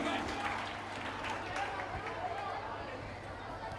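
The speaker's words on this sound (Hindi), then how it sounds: "Give a big hand please." An audience at a KBC-style quiz game show event claps steadily as a contestant is welcomed, a dense continuous wash of applause mixed with crowd chatter.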